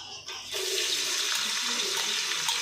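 Five thick sliced onions drop into hot oil for an Ambur-style chicken dum biryani, setting off a sudden, loud, steady sizzle that starts after a brief quiet moment and keeps hissing close by with no talking.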